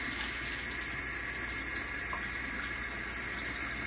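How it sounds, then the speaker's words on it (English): Tap water runs steadily into a kitchen sink as hands are washed while bacon and biscuits are cooked, a constant close hiss with no talking. "Let me wash my hands again"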